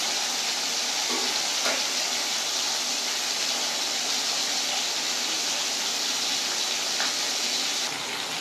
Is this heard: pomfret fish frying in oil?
yes